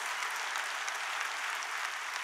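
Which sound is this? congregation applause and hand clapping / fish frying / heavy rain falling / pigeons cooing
congregation applause and hand clapping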